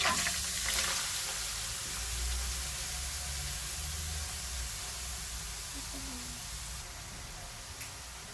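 Grated carrots for carrot halwa frying in a pan, a soft steady sizzle and hiss with faint stirring scrapes, quiet and continuous.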